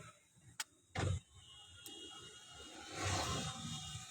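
A car's electric window closes with a short motor whir, preceded by a couple of sharp clicks, then a longer, louder whirring surge toward the end in an otherwise quiet cabin.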